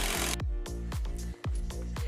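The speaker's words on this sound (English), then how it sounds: "The drill's in reverse to pull out the original screws." A power drill runs in reverse, backing old screws out of worn timber decking on an existing subframe, in a rapid series of short, close whirring bursts with brief gaps between them.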